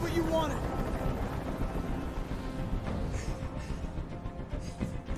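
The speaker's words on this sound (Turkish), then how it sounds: "Tell that helicopter to get out of here." A helicopter in the video game Detroit Become Human hovers overhead with a steady rotor drone under the game's dialogue, its chopping rumble continuous throughout.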